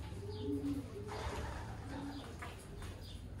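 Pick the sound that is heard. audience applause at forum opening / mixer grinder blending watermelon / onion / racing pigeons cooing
racing pigeons cooing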